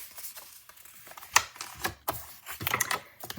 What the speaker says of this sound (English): I'm just going to fold this in half